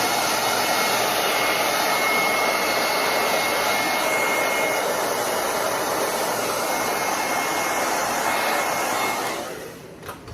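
A hair dryer blows steadily on one-step paint drying on a wooden picture frame being distressed, a loud continuous whooshing hum for about nine seconds before it cuts off abruptly.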